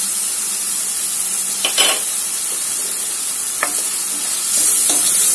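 Tomatoes with turmeric sautéing in a pan for an okra side dish, giving a steady sizzle with a few scraping stirs of a spoon against the pan, loud and close with no talking.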